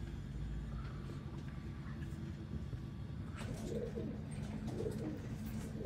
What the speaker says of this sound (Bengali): এই হচ্ছে আরেকটা মেল বার্ড, টেডি 128